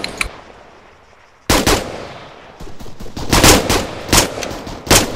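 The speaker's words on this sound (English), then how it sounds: "Alright, Delta, open fire when you're ready." Gunfire in the video game ARMA 3: a single shot, a short lull, then a loud burst followed by repeated rapid volleys of automatic fire, close and sharp.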